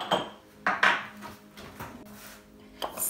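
A teaspoon clinks against a cup of warm milk while sugar is stirred in for bread dough, with a few sharp, close metallic taps spaced over a few seconds.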